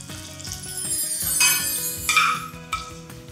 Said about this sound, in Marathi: आता ही चुरचुरीत फोडणी घालूयात चटणीवर.